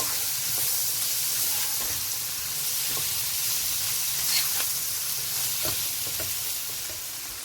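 Seafood linguine stir fry with Maggi seasoning and sauce sizzles steadily in a pan, a soft continuous frying hiss with faint scraping and stirring clinks, no voices.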